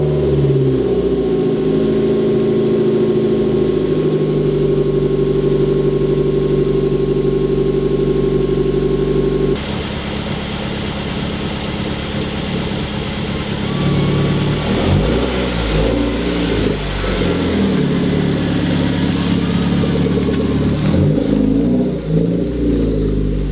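An old car parked in a 40-year-old garage starts from cold and then runs: a loud, steady engine drone with low rumble, shifting partway through into fluctuating revs and rising and falling pitch, all up close.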